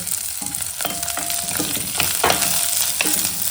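Tempering vadagam crackles in hot oil for a Tamil kuzhambu, a close, busy sizzle broken by sharp pops and the scrape of stirring in the pan.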